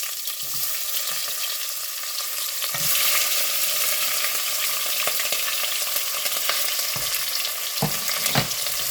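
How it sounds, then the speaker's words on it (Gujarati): Half a green capsicum, half an orange capsicum and half an onion sizzle in a pan of hot oil for vegetable pulao, with a steady, close frying hiss and occasional stirring scrapes, no talk. "તેની અંદર મેં 1 શિમલા મરચું અડધું લીધું છે, અડધું કેસરી મરચું લીધું છે, 1 ડુંગળી લીધી છે અડધી, તે નાખીશું।"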